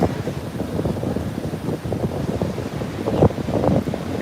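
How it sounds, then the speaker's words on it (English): Gusty wind buffets the microphone at Juno Beach, Florida, over a low, continuous roll of ocean surf, loud and close with no clear speech. "do I get drowned out with the wind?"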